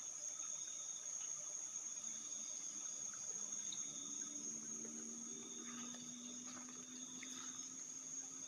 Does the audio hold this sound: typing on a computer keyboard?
no